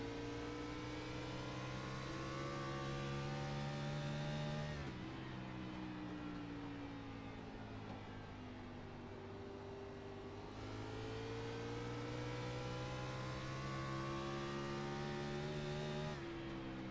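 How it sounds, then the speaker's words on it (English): A race truck engine at an oval race track, its harmonic drone dropping in pitch at a downshift around the five-second mark and again near ten seconds, then climbing back as it revs. It holds loud and steady throughout, with no talk. "There's a downshift from Tuckness."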